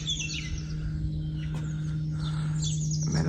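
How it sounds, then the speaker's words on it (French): Many birds sing and chirp in the trees, their calls scattered and moderately distant, layered over a constant low droning hum and faint background traffic. "Mais là, il y a plein d'oiseaux."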